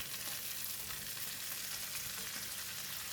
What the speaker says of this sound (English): While the hot oil is softening the stem, continue to stir frying for about 30 seconds.